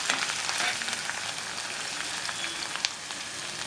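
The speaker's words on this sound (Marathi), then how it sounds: "हे लसूण मिरचीचं वाटण आहे. तर आपण याला परतू देऊया यामध्ये तेलामध्ये." Garlic and green chili paste sautés in hot oil, giving a dense, even crackling sizzle with a few sharper pops, close and continuous.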